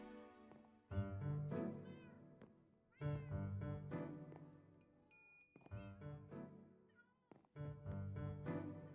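Cats in a Minecraft cat cafe meow loudly and repeatedly, with several drawn-out, tonal meows coming in bursts across the scene. A brief chime is heard partway through.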